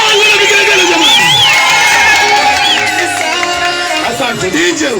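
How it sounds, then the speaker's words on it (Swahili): A loud wedding-style crowd cheers and ululates continuously, with high trilling vigelegele cries rising over dense shouting close by and voices mixed throughout. "shangwe na vigelegele jamani."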